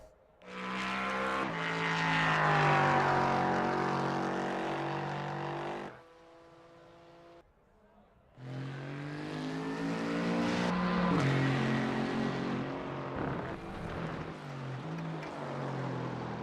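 A Mercedes race car engine in a Le Mans racing video game roars loud and close, pitch climbing through gear changes. It drops to a lower drone for a couple of seconds, then surges back up into sustained high revving.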